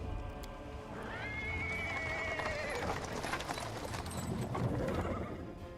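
A horse whinnies clearly and at length, with hooves clip-clopping on paving stones as it draws a cart around a corner. The sound is fairly close, over a low background of wheels and ambience.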